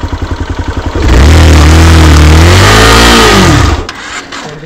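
A vehicle idles with a rhythmic putter, then revs hard as its tyre spins on dirt. The loud engine note rises and falls for about three seconds before dropping back, close and with no voices.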